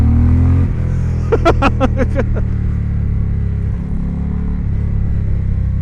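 A 2020 Indian Challenger V-twin motorcycle engine idling with a low rumble, then revved in a quick burst of several sharp throttle blips before settling back to idle.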